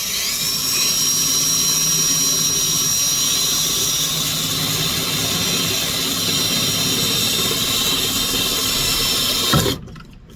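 A power drill whines loudly and steadily for several seconds, grinding through the metal roof of a 2019 Honda Pilot, then stops abruptly near the end.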